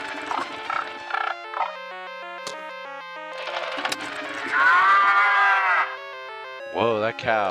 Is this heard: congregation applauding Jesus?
no